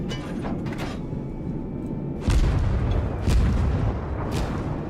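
Heavy naval gunfire booms in the World of Warships video game, two loud deep blasts landing about a second apart over a steady rumbling engine and sea background, with no voices.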